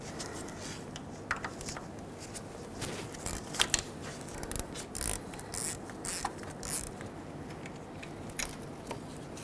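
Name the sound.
ratchet removing 10mm bolt from Ford F-350 starter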